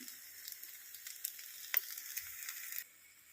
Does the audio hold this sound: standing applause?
no